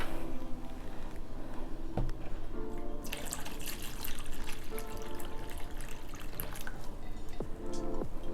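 Water poured into a houseplant pot with no drainage hole, a continuous trickle and splash with gurgling and dripping, close and fairly loud, swelling into a heavier pour partway through.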